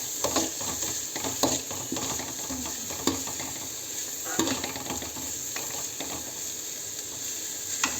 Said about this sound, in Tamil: பீன்ஸ் போட்டு இதையும் ஒரு வதக்குன்னு வதக்கலாம்.